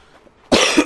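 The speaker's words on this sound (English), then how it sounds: "Excuse my coughing again." A single loud, harsh cough bursts out close to the microphone after a near-silent moment, with no talking.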